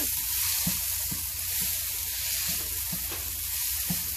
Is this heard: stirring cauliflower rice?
yes